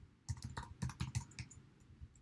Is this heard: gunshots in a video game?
no